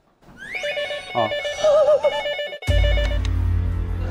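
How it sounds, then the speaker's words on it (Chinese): A telephone rings in a hospital-themed escape-room game set, giving a warbling electronic ring for about two seconds. A loud broadband rush follows, and a brief vocal exclamation is heard. "接电话， 电话搁哪儿呢？"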